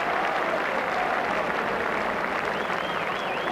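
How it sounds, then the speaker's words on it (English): A football stadium crowd applauds as injured Rangers player Dale Gordon is carried off the pitch, a steady dense wash of clapping that holds at even loudness from start to finish. "So applause for the injured Dale Gordon as he is carried from the field of play."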